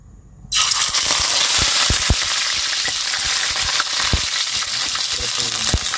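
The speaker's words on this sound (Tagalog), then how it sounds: "piprituhin muna po natin ang ating mga isda" Fish drops into very hot oil in a pan and sets off a sudden loud sizzle that keeps roaring steadily. Sharp pops and light clinks of the pan break through the close, dense hiss.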